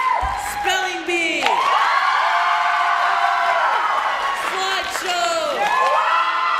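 A teenage crowd at a school comedy-improv match erupts in sustained screaming and whooping, shrill young voices layered over clapping in a loud, crowded room, with swells of cheering rising and falling throughout.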